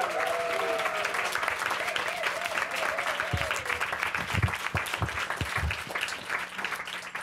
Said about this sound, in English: And if we could just have another round of applause for all of our contestants.